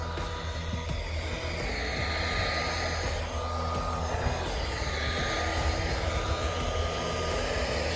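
A hair dryer blows steadily while heating a dented car panel, a constant rushing whoosh with a faint whine that swells and dips slightly as it moves, close and unaccompanied by talk.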